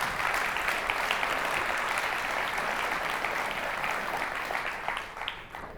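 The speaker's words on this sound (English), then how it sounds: "A round of applause for our beautiful and glamorous assistants" Audience at a national sales conference clapping for volunteer assistants on stage, a dense, sustained round of applause that holds steady throughout and dips slightly at the very end.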